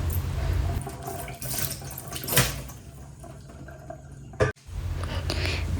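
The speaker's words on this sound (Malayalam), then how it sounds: "പാത്രം കഴുകുമ്പോൾ ഒരുപാട് വെള്ളം വേണം കേട്ടോ" Tap water runs into a kitchen sink while dishes are washed, a steady splashing stream that swells with bursts of spray and briefly cuts off before resuming, close and fairly loud.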